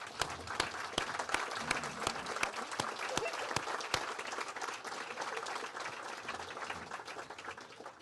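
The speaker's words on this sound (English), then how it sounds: "Please, would you all stand so we can give you a round of applause." An audience applauds at a campaign launch event, steady dense clapping filling the whole stretch at a moderate distance, with a few sharper claps standing out.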